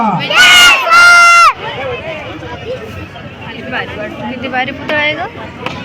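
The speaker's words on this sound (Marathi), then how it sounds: "सर्वांनी जोरदार या ठिकाणी घोषणा द्यायची आहे" A crowd loudly chants slogans together in unison for a second or so at a statue unveiling ceremony for Dr. Babasaheb Ambedkar, then settles into a noisy murmur of many voices.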